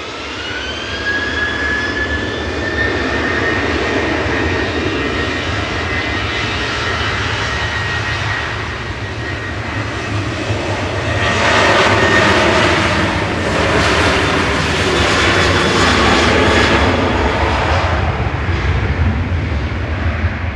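A jet airliner, registration G-FDZY, departs Manchester Airport on flight 2636 to Verona, its engines a loud roar with a high whine that builds midway into a heavier, closer thrust before easing slightly.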